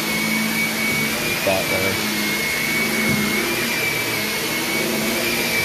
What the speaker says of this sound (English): after I'm done vacuuming the main areas